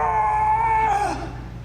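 A long, wavering ghostly scream holds a high pitch, then bends downward and fades, loud and close with no other sound.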